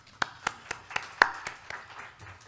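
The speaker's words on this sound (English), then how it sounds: "Let's give Jean one more round of applause" Sparse, light clapping from a small meeting audience, roughly ten separate claps spread over a couple of seconds, fairly distant and thin rather than a full round of applause.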